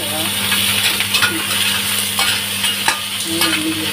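Crab with scallions stir-frying in a pan gives a steady close-up sizzle, with a few light scrapes and clinks from the utensil against the pan.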